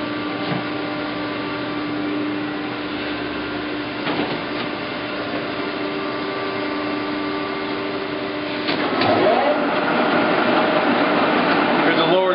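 Nardini SZ 2560T engine lathe running at a lower speed of about 600 RPM, giving a steady mechanical hum with a constant tonal whine and light clatter that grows louder and rougher near the end.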